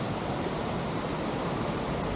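Steady, dense rush of falling water from a waterfall at the entrance to the Buraco do Padre cave, loud and continuous with no breaks and no voices.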